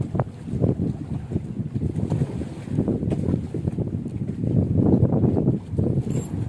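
Strong wind buffets a fishing boat at sea, a steady loud rush and rumble across the whole stretch with no pauses, swelling slightly toward the end.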